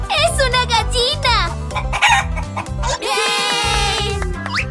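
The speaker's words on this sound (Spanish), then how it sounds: "¡Es una gallina!" A chicken clucks and crows in a children's learning cartoon, the bird calls laid over upbeat music with lively voices.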